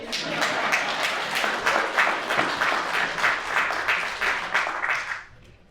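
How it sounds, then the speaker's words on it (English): Audience applause at a city State of the City address, a steady broad wash of many hands clapping for about five seconds before tapering off abruptly. "That deserves a round of applause"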